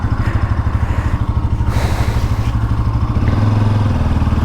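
A Bajaj Pulsar NS200 motorcycle, with a bent fork and newly changed brake pads, is ridden with a close, steady engine chug that rises slightly in pitch toward the end.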